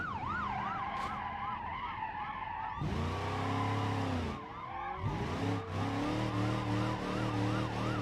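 Police car siren in the BeamNG.Drive driving game, wailing up and down loudly alongside a revving muscle car engine and tire squeal, with no talking.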